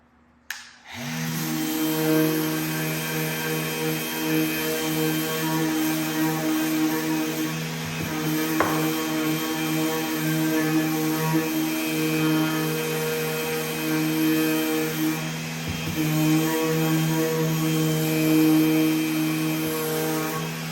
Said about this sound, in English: I'm going to get the router around over the edges